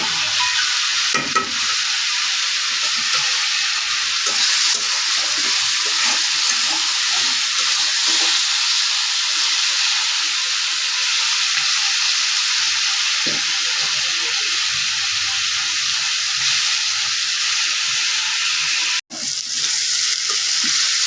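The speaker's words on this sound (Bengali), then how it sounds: "দেখতে পাচ্ছেন তেলের মধ্যে ভাজা হচ্ছে" Sliced onion fries in hot oil for a fish curry, making a loud, dense, unbroken sizzle heard up close that holds steady throughout, with only a brief drop near the end.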